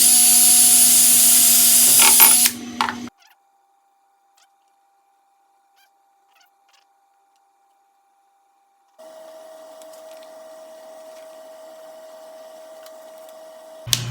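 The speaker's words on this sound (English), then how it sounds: "I'm just gonna drill straight through." A power drill bores straight through a piece of wood to make a screw hole. A loud whirring burst lasts about three seconds and cuts off into silence, followed later by a quieter, steady motor hum.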